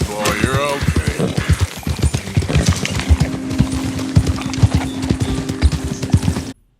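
A dark bay bronze Turkoman horse in Red Dead trots along with rapid, loud hoof clip-clops and snorting breaths, a brief whinny near the start, until the sound cuts off abruptly.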